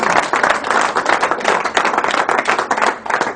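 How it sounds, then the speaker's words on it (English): Applause sound effect after a card trick: dense, steady clapping from a crowd, loud and continuous throughout without voices. "If it worked, bow to your thunderous applause."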